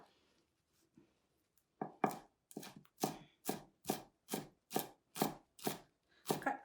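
Knife finely chopping fresh cilantro on a board for Tibetan momo, about ten crisp, evenly spaced chops close up after a quiet start.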